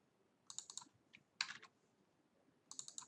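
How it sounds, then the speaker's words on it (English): Keys tapped on a computer keyboard while numbers are entered into a spreadsheet-style sheet, three short bursts of quick, close clicks separated by brief pauses, fairly quiet and alone. "You can see I'm typing in numbers here"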